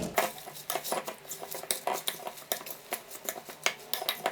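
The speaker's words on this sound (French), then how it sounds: "Mélangez votre salade avec 2 cuillères à soupe de pesto" Salad is tossed with pesto in a bowl, utensils clinking and scraping against it in quick, irregular taps, close and fairly quiet, with no voices.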